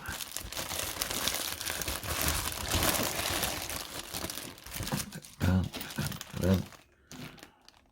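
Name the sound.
unwrapping AirPods Pro silicone case packaging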